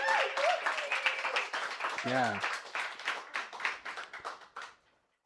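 Audience applause after a poetry reading at an anniversary celebration, a spread of claps with a brief cheer, fading out toward the end amid some voices.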